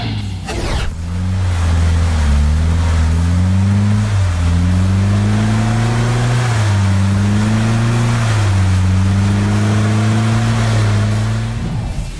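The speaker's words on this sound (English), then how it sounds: "blast through a deep, water-filled trench as fast and as far as possible" An off-road truck charges a deep, water-filled trench at the Bounty Hole off-road competition in Guyana. Its engine roars loud and close the whole time, the revs climbing and dipping in long surges, with no voices.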